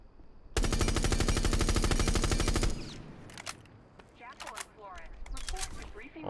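Rapid automatic gunfire from a rifle fitted with a muzzle brake in Rainbow Six Siege, one loud sustained burst of densely spaced shots lasting about two seconds, then quieter in-game clatter and movement sounds.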